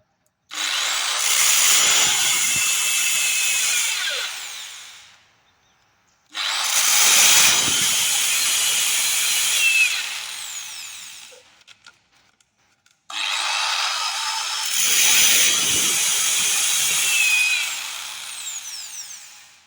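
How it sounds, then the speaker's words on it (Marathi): A loud hand drill with a large size-19 PVC drill bit bores a big hole in three long bursts of several seconds each, separated by brief quiet pauses; no talking. "आता आपण याचा ड्रिल मारून बघू।"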